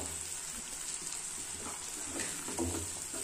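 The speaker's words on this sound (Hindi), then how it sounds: "तो अब हम इसमें कमल ककड़ी के टुकड़े डाल देंगे।" Lotus stem pieces dropped into spiced masala with oil separating at the edges, frying with a steady close sizzle and some stirring clatter, slightly louder near the end, with no voices.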